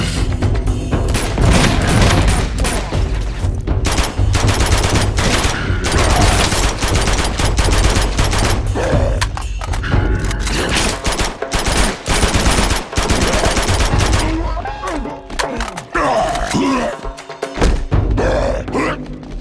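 Sustained automatic gunfire in the Uncharted 2 action game, dense bursts of rapid shots with occasional heavier booms and thuds, loud and continuous throughout with brief faint voices underneath.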